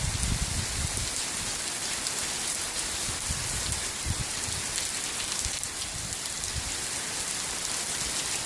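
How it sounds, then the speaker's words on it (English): Heavy rain pours steadily in the Everglades, a dense, continuous hiss of drops drumming on surfaces nearby, loud and unbroken throughout with no talking. "Now the rain is really picking up."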